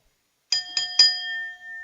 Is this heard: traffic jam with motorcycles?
no